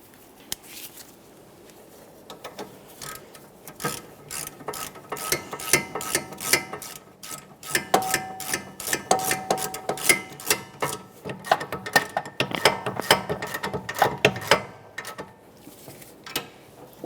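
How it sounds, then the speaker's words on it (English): Hand wrench ratcheting on a Toyota Sienna sway bar link mounting nut, an 18mm tool tightening it in quick bursts of close clicking strokes with short pauses between. "we're going to be using an 18mm to tighten this mounting nut"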